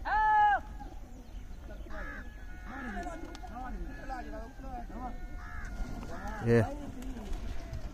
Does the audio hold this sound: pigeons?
yes